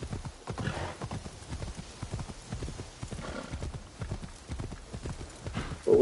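Horse hooves clip-clopping in Assassin's Creed Shadows, a steady trotting rhythm of close, distinct hoofbeats running throughout with a brief whinny-like texture and ambient game sound behind.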